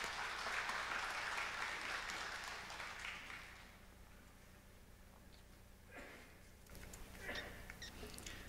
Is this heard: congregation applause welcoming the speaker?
yes